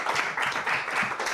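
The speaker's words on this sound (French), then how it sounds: "On applaudit également." Brief applause from an audience at a university research-presentation final, a moderate, dense patter of clapping that holds steady for a moment at a fair distance.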